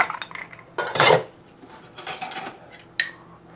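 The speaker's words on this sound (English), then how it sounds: "Give it a good stir." Ice cubes clink and rattle against glass and a bar spoon while a Rusty Nail of scotch and Drambuie is stirred, a close run of irregular bursts with one louder clatter near the start and a sharp tap near the end.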